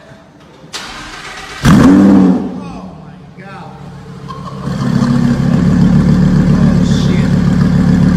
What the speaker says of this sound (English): So here's the Capristo after exhaust.